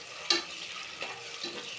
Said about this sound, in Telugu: ఇలా పచ్చివాసన పోయేంత వరకు ఇట్లా వేయించుకుంటే సరిపోతుంది.